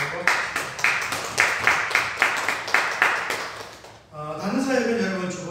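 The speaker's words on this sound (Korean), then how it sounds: "박수로 감사하고" A church congregation claps in a steady, rhythmic beat of about a dozen even strokes. The clapping stops abruptly and a voice begins speaking.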